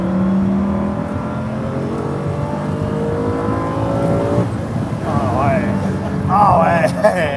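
A Lamborghini Diablo engine revs and accelerates with rising, shifting tones through gear changes, loud and close, while people talk over it.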